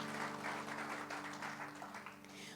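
Faint, distant applause from a church congregation rolls on as a soft continuous patter of many hands under a low steady hum.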